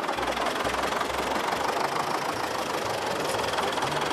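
A tractor engine idles with a steady, slightly knocking low throb, close by and continuous, with no voices over it.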